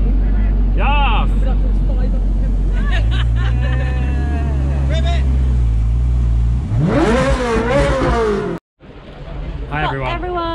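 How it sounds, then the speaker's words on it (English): A Liberty Walk Ferrari 458 at a busy Bristol breakfast car meet revs hard, its engine rising and falling close by among crowd chatter and cheering. "Rev the fucking shit out of it."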